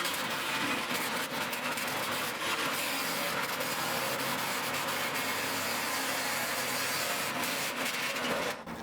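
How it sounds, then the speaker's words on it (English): A battery-operated nibbler cuts sheet metal to clear a window opening on a tiny house trailer build, giving a steady, dense rasping chatter that runs loud and unbroken for nearly nine seconds. "now I'm going to use this battery operated nibbler. The nibbler, just as the name implies, it nibbles away the metal"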